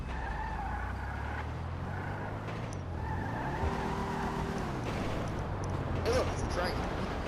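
Imponte Deluxo car in GTA Online has its engine started and then drives off. The engine hums steadily throughout, with a rising rev near the middle and a tire squeal. People talk over it.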